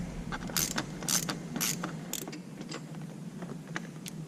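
A hidden screw is backed out of a Can-Am Spyder body panel, close-up, with a run of sharp ratcheting clicks and faint creaks at a steady rhythm, then softer scattered clicks fading toward the end.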